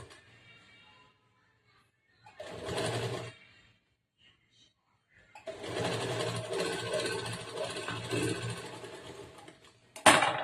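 A sewing machine stitches a collar neck blouse in short runs: a brief burst, a pause, then a longer steady whirring run that ends with a sharp clack. Faint voice in the gaps.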